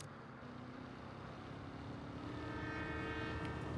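A train rumbles past in the video game Saints Row (2022), a steady, moderately loud rolling drone with tonal hum that builds slightly over a few seconds.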